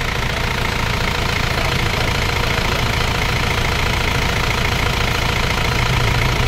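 A 4JA1 diesel engine in an Isuzu Crosswind, 15 years with its second owner and due for an overhaul over white smoke, runs loud and steady with a rough, knocking idle, close up, with no talking.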